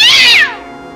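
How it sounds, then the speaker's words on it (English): A cat lets out a single loud, high scream that slides downward and cuts off within half a second, leaving a faint hum behind. "The sound of the cat screaming"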